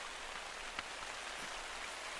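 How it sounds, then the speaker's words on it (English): Steady rain in the hunting game The Hunter: Call of the Wild makes a faint, even hiss of drops on the ground, continuous and unbroken, with no voices. "And it's raining."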